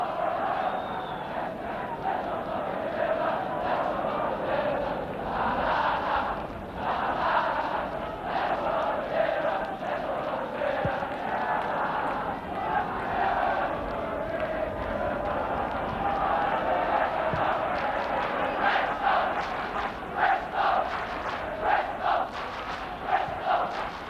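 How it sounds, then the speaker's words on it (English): Football crowd at a Bristol Rovers versus Aston Villa match, a broad, steady roar of many voices with rising swells of jeering from the stands, rolling continuously at a distance. "The crowd give him the bird."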